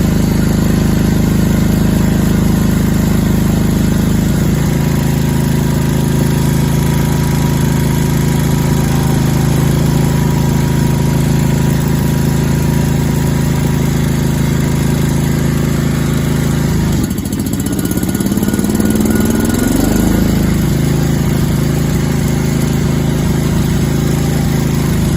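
Lawn mower engine with a failing ignition coil runs loud and close at a steady drone, then stumbles and cuts out briefly partway through before picking back up and settling into its hum again.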